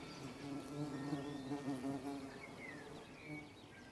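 Wild bees buzz steadily close by around the flowers of old orchard trees, a continuous droning hum that wavers slightly in pitch, with faint birdsong in the background.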